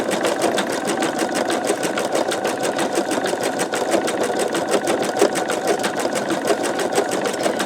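An embroidery machine stitches a flower on a sugar skull design, its needle running in a steady, fast, even rhythm that stays continuous and close throughout, with no talking.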